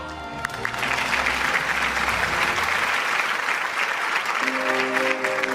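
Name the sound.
audience applause welcoming a singer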